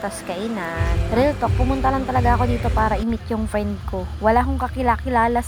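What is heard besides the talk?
None of the usual background noises is heard.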